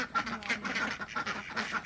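Ducks quack repeatedly in a backyard in rural Leyte, a close, busy chatter of overlapping calls with no talk over them.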